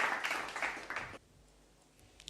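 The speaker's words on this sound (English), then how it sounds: "Can we have a round of applause for the group, please?" Brief burst of applause for a team at an inter-college legal quiz competition, a second of clapping that cuts off sharply into a quiet room.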